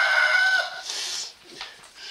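Chickens cluck and squawk close by, one high call stretching out before more clucking and fowl chatter follow in a busy barnyard.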